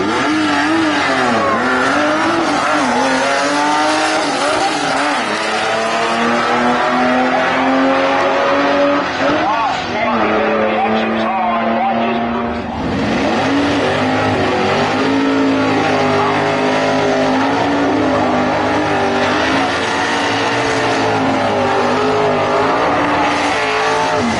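Drag race cars at a Mopar Sunday 2023 event launch in the final, loud engines revving and roaring with rising, falling pitch sweeps, continuous and close, while an announcer talks over them.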